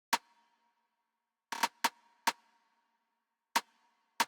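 A high-pitched, tonal snare sample fires six times in a sparse, syncopated groove, each hit a sharp bright crack with a short ringing tone, alone with silence between strikes.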